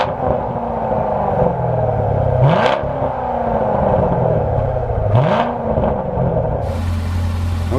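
A Corvette C7's exhaust rumbles deeply at idle in sport mode, broken by two quick throttle blips that rise and fall before settling back.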